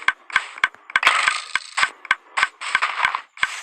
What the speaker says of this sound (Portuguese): Ah, o barulho do clique infinito